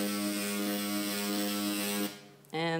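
A sonification of a hundred years of climate data, compressed into a few seconds, comes through as a steady buzzing tone rich in harmonics. It cuts out briefly near the end, then resumes just as loud.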